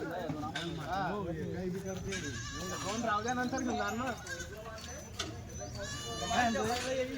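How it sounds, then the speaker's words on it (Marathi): Kathiawadi goats bleat repeatedly at a livestock market, several wavering cries close by, one after another, mixed with people talking over them. "हे बकरी बघा"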